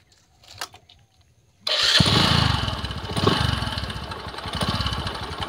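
A used Bajaj Discover 100cc motorcycle starts after a quiet moment, then its single engine settles into a steady, close putter and idle.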